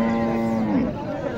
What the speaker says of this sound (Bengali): এই হচ্ছে গাভীটা